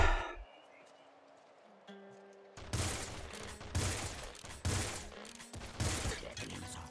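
Gunfire in the video game Nuclear Throne Ultra Mod: quiet electronic game tones give way to loud, rapid bursts of repeated shots in several clustered volleys.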